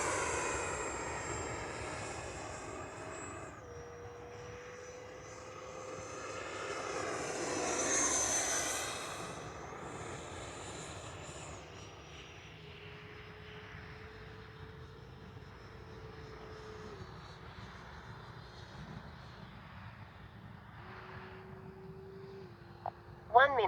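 A Freewing F9F-8 Cougar 80mm electric ducted-fan RC jet flies past with a rising, whooshing whine that swells to a loud peak and then fades into a long, distant drone, ending with a sharp close bump.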